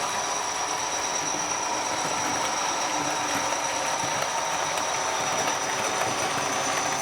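A model Class 37 locomotive hauling a passenger train on a layout, giving a steady close mechanical rumble and rattle with a faint high whine that runs unbroken throughout.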